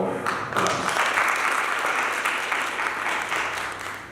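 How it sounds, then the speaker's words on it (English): Round of applause from attendees at a breakfast meeting on apprenticeship in Kenya: steady, fairly full clapping from a room-sized crowd that rises quickly and tapers slightly at the end. "I request now we applaud Okam with a round of applause."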